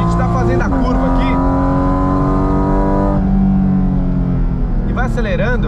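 A Porsche 718 Cayman GT4 RS, rear-wheel drive, accelerates hard through a curve, its engine note rising steadily and loud, then a gear change and a fresh climb, with someone talking excitedly over the engine.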